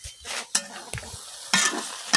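Sponge gourd stirred and cooked down in a pan after long simmering, heard as short bursts of sizzling and scraping strokes separated by brief pauses, close and moderately loud, with no talking.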